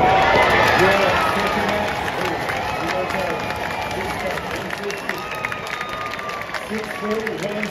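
A large Serbian crowd cheering for Novak Djokovic at the 2024 Monte-Carlo tennis semi-final against Casper Ruud, a loud, dense roar of cheers and applause that eases slightly and carries on as a lively rumble of voices.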